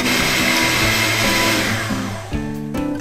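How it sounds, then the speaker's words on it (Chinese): Electric whisk beats butter and powdered sugar for Italian hard-boiled egg yolk cookies, a steady loud motor whir with a shifting pitch as the beaters move, changing tone near the end. "先用刮刀拌匀，用打蛋器一打，打发"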